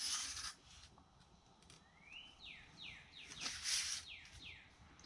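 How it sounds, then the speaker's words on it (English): Birds sing outdoors beyond an open door on a warm day, with a series of bright, sweeping chirps repeating at moderate distance after an opening stretch of rubbing and scraping. "I hope you guys can hear those birds out there"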